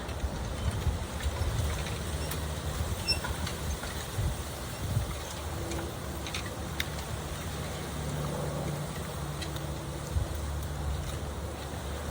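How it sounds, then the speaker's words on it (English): Wind rumbles and buffets outdoors, a steady low roar with gusts, moderately loud and continuous, with no talking. "It's pretty windy out here, so apologize for the wind noise."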